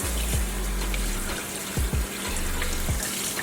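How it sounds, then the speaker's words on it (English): Cold tap water running over a red snapper in a kitchen sink, a continuous close splashing stream with occasional low knocks as the fish is handled. "I'm gonna run it under some cold water."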